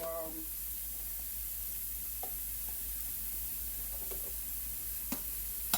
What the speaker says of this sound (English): so they're sauteed and not steamed